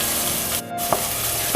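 Mushrooms, ginger and garlic fry in a pan for fried rice, giving a continuous close sizzle with a brief dip partway through and a couple of light stirring clinks.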